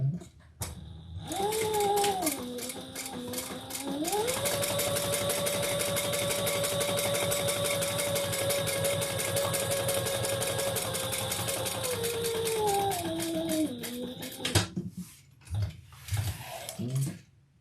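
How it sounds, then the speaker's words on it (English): A home sewing machine runs a steady, fast stitch for an eighth-inch topstitch along a side-panel seam of a garment, motor humming loud and close with brief speed changes at start and finish, then a few clunks after it stops. "we're just going to do an 1/8 inch top stitch"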